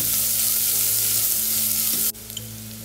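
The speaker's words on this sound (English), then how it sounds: "And along with this I am adding 1 chopped onion, and I will give a mix. And we'll let this saute for 2 minutes." Chopped onion sautéing in a pan for spinach rice khichadi, a steady close broadband sizzle with a low hum underneath that drops abruptly near the end, leaving quieter frying.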